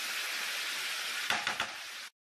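Onion and stuffing mix frying on high heat for stuffed bell peppers: a loud, steady, close sizzle with a few stirring scrapes near the end before it cuts off abruptly.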